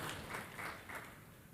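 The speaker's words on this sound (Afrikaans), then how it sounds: "Kan ons vir Johan 'n hande klap gee?" Audience clapping for Johan at a church gathering, a soft, diffuse wash of applause that swells and fades over the moment, fairly quiet and distant with no voices.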